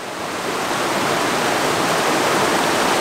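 A river waterfall in a forest near a treehouse villa, its heavy flow of water rushing in a steady, loud, unbroken roar close by, with no voices.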